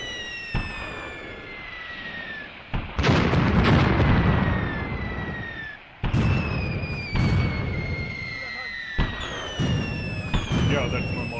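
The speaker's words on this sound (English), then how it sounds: "Yeah, that's my mortars actually." Mortar fire and explosions in the Graviteam Tactics war game, several loud booming blasts at irregular intervals, some close and sharp, others rolling, over a rumbling battlefield background with descending whistles.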